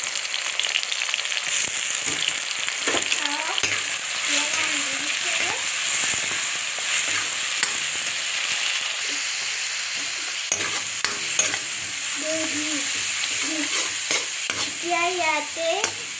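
Onion, ginger, garlic and tomato fry in oil for a chicken dish, a dense close sizzle with repeated stirring scrapes, while a voice speaks intermittently over it.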